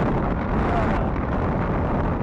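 Wind roars across the microphone while riding a bike outdoors, a dense, steady, close buffeting rumble that fills the short stretch without a break.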